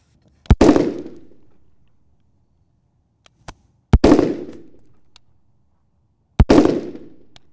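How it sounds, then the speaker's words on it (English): A rifle fitted with an Aimpoint sight fires three loud, close shots several seconds apart at an outdoor range, each crack ringing out in a short decaying echo. "we're gonna have Keith go ahead and fire a 3 to 5 round group"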